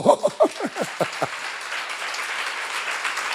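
During a church seminar, a congregation laughs in a few quick bursts, then breaks into soft, scattered clapping that settles into a steady, moderate patter.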